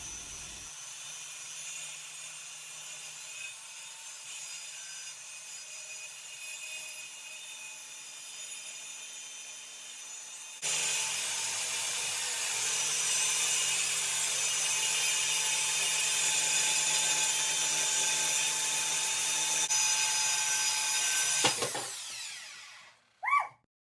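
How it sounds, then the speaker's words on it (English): A circular saw rips along a marked line in wood for a handmade cabinet, running steadily at moderate level, then roaring louder and harsher for about ten seconds before spinning down and stopping with a brief final burst. "Now I'm going to use my circular saw and stay on the left side of that line"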